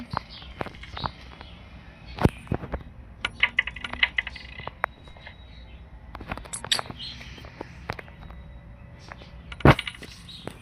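Several sharp metallic coin clinks ring out at irregular intervals over faint background clicks and tapping in the video game Granny Chapter 3, with a bright clink standing out near the end.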